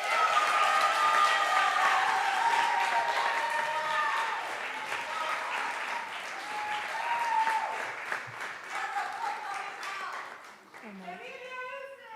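An open mic audience at a poetry reading by writing fellows breaks into sustained, loud applause that rolls on for several seconds and then tapers off, while people speak over the clapping.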